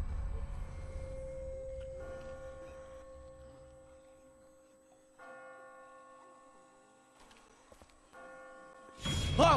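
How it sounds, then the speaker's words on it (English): Church bells ringing in The Walking Dead video game, a loud deep strike fading slowly, followed by further tolls at intervals, ending in a sudden sharp noise. "I just got spooked by those bells"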